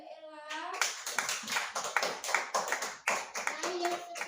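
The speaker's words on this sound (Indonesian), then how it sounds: "Ya, beri tepuk tangan pada Mbak Ella." A small group in a classroom claps for a classmate, with brisk, uneven bursts of hand claps heard close by. A voice is heard briefly at the start and end.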